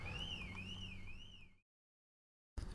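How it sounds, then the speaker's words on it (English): An alarm outside wails with a warbling, siren-like pitch that rises and falls in a steady cycle, faint and distant, then cuts out into silence before resuming briefly. "There's an alarm going off"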